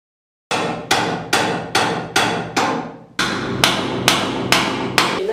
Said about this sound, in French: j'ai à peine posé le marteau dessus, ça a fait un trou.